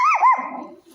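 Two dogs give a single short, close bark that bends in pitch and trails into a faint low rumble, with no talk over it.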